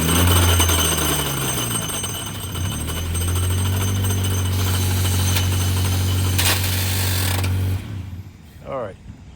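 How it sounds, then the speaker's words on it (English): An auctioned vehicle, started with a jump box, is put into gear and its gearbox grinds with a loud, sustained mechanical drone and rattle that cuts off near the end, followed by faint background noise. "put it into gear and grinding away"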